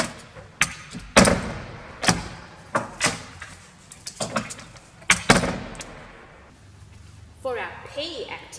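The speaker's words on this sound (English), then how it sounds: "I want you to find a door in your house and I want you to open and close the door." A door inside a house is opened and closed over and over, giving a run of sharp, close thuds and knocks spaced about a second apart, with softer rustling between them.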